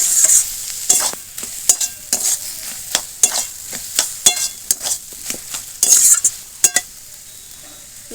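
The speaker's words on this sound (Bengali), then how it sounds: "এবার খুন্তি দিয়ে একদম ভালো করে এইভাবে একটু নাড়তে হবে" A spatula stirs salt, turmeric and spices in a pan for Bengali-style prawn with spinach, giving repeated sharp scraping and clinking strokes over a low sizzle, steady and close.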